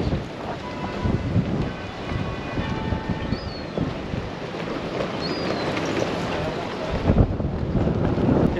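Strong wind roars across the microphone on the Oslo waterfront, a steady broadband rush with heavy low buffeting gusts throughout, swelling sharply near the end, with a faint voice briefly underneath.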